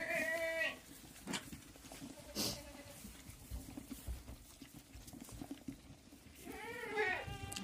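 Goats on a small farm bleat in short calls, one near the start and another rising and falling near the end, with quieter shuffling and background noise in between.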